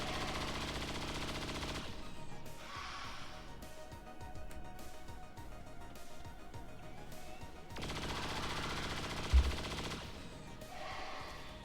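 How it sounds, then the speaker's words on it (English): Sustained rapid gunfire in XCOM 2: Long War of the Chosen, chain shots crackling in dense bursts with brief quieter gaps, loud and close, with no talking over it. "Time for some chain shots."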